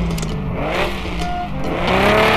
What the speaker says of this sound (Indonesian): untuk suara mobilnya beda-beda ya guys ya, untuk setiap mobilnya suara knalpotnya